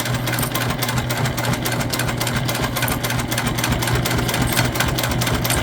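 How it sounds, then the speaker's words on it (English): A sewing machine running steadily and loudly while stitching a shoulder bag made from recycled material, starting with a back stitch, its fast even motor whir and needle chatter continuous throughout with no speech. "Go ahead and stitch that up. I like to start a little past where the hole is, do a nice back stitch."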